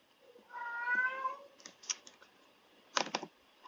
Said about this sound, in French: Désolée pour mon chat qui miaule.